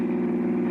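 A 1940s car drives along with a steady, mid-pitched engine drone, close and even for a short stretch with no talking.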